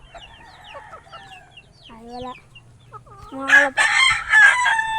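A rooster crows loudly with a rising, rasping call, preceded by softer clucks and chicken calls, with a brief spoken exclamation nearby.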